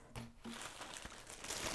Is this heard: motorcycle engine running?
no